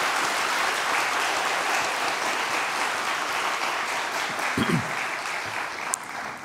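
A congregation at a Sunday church service applauds to welcome visiting missionaries: a steady, dense wash of clapping that stays loud and even for the whole stretch, with a brief thump near the end.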